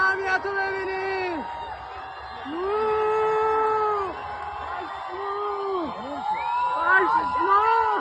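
A large crowd fills the streets of Tehran, cheering, whooping and shouting in a loud, sustained roar with rising and falling chants and scattered high yells throughout.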